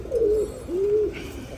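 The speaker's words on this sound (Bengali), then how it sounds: "এই হচ্ছে আমার এই বাসার কবুতরগুলো।" Domestic pigeons in a home loft give two close, clear, drawn-out coos in quick succession, with no talking.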